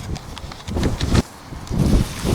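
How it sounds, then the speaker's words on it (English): Strong gusty wind outdoors beside a tree, buffeting the microphone in uneven low rumbling bursts, loud and close, with short lulls between gusts and no talking. "Oh, it's really windy out here."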